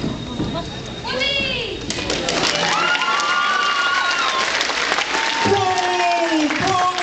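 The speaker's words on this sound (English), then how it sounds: "Why are you yelling Bravo?" Convention masquerade audience cheering, clapping and yelling out loud, a dense crowd roar with shouts and whoops rising over steady applause throughout, with voices talking within it.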